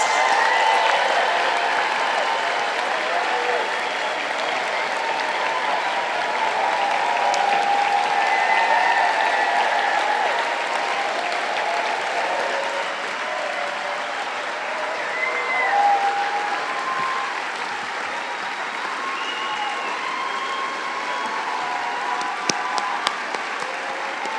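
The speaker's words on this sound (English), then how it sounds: "Let's give them a big round of applause" Sustained applause from a sizable audience at a 2016 USM graduation ceremony, steady and even for a long stretch, with a few scattered whoops and cheers rising above it.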